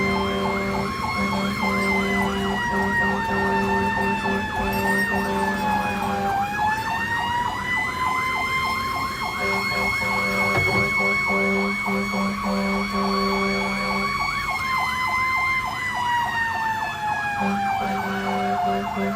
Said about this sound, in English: I ride in on the fire truck, and I make sure that when I do ride in on the fire truck, we make as much noise as possible